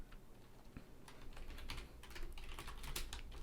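Computer keyboard keys clatter in quick, uneven taps as shortcuts are typed, soft and close, with a few sharper presses near the end.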